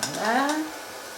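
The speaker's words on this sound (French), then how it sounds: "j'ajoute ma persillade pour continuer à rissoler, à se mélanger." Garlic and parsley persillade sautéing in a pan for Provençal pieds paquets, a short close sizzle with a brief stirring scrape that swells then settles into a steady low fry.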